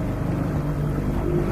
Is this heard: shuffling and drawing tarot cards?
no